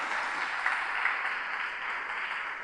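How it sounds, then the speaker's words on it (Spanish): A church congregation applauds in a steady, faint wash of clapping that lasts the whole stretch, with no voices over it. "¿Por qué no le damos un fuerte aplauso a Dios?"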